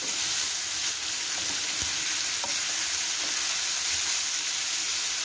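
Tomatoes with spices frying in a pan, a steady loud sizzle with occasional stirring scrapes throughout, no voices.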